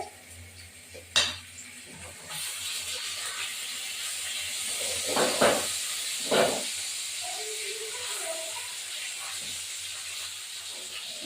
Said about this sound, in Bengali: মাছগুলো উল্টিয়ে দেবো